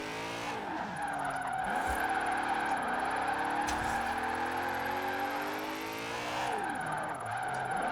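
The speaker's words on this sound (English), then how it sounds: "Like I'm holding a slide for so long just on handbrake because they just don't have grip sideways." A BMW on drag tires is held in a long handbrake drift in Forza Horizon 4: continuous loud tire squeal and skidding over a revving engine, with brief surges as it fights for grip.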